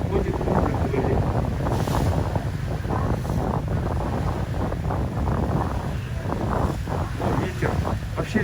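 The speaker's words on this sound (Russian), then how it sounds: "Ветер." Strong wind at a ferry port in Hiroshima buffets the microphone in a constant, rumbling roar, with faint voices and water sounds beneath.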